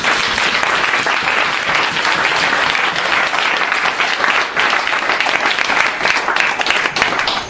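A church congregation bursts into loud, sustained applause and cheering for Jesus, dense clapping filling the room steadily from start to finish with no pause.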